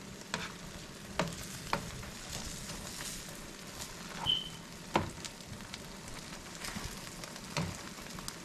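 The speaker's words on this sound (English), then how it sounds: "So here's our Texas toast. It's toasting nicely." Texas toast cooking in a frying pan gives a soft, steady sizzle and crackle with scattered faint pops and clicks, fairly quiet and close, with no talking.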